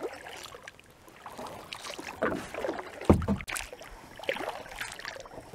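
Kayak paddle slicing through calm water in a few near, soft swishes and splashes, with gentle dripping between strokes in an otherwise quiet outdoor setting.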